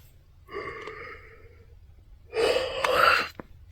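A person yawns twice, a drawn-out breathy exhale followed by a louder, fuller yawn with a voiced rise near the end, close to the microphone with no talking.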